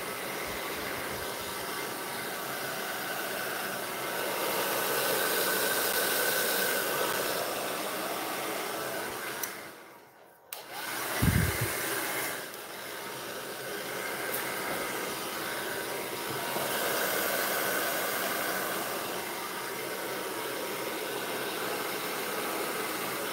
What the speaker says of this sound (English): I'm gonna take my glove off because I'm not using an art hairdryer and I don't want to get paint all over it